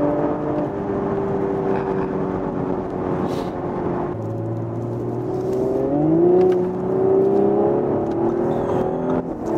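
An Audi S5 coupe TFSI with all-wheel drive accelerating to high speed on the road, its engine hum rising in pitch as it speeds up, heard steadily from inside the car.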